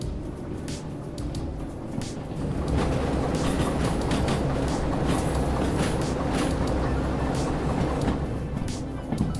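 Train rolling along steadily in the rain in the railway game Derail Valley, a dense continuous rumble with faint clatter and hiss, with no talking.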